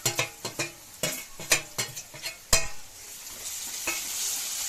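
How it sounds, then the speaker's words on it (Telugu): Ginger garlic paste being fried and stirred in a pan for a chicken masala curry: a run of sharp spoon scrapes and clinks against the pan, then a softer continuous sizzle settling underneath. "అల్లం వెల్లుల్లి పేస్ట్ కొద్దిగా 2 minutes అలా వేయించుకోవాలి"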